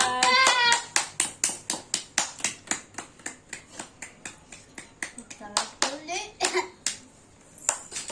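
A little girl claps her hands at home in a long run of quick, crisp, close claps with a brief pause near the end, while a voice chimes in faintly at the start.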